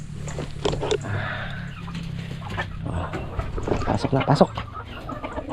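Farm chickens cluck softly at a feeding time, their calls mixed with someone talking and calling them in, with a close rolling call from him near the end.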